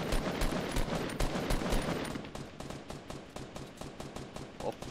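Rapid automatic gunfire from a Fortnite Battle Royale match, a dense burst of repeated shots that stays loud throughout, slightly easing toward the end.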